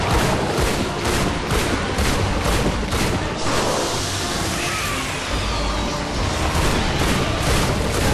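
Dense, continuous gunfire from the game Bulletstorm, rapid shots and booms layered into a loud, steady barrage with no pauses, heard without talk.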